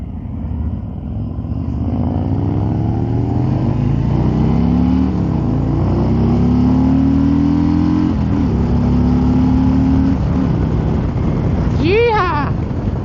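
A 2023 Harley-Davidson Road Glide trike engine accelerates on a group ride, loud and close with steady rising engine pitch, wind rumble and a brief chirp near the end.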